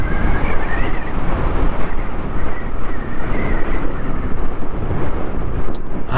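Steady, loud wind roar buffets the microphone on a Vespa GTS300ie Super scooter riding on a windy road, with the engine hum buried beneath and no break throughout.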